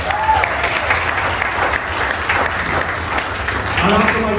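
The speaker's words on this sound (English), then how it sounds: "Y'all give yourself a round of applause." Audience applauding at an Appalachian Trail community designation ceremony in Clayton, Rabun County, a steady wash of clapping from a crowd lasting several seconds, with a voice briefly audible near the end.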